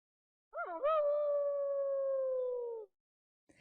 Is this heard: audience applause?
no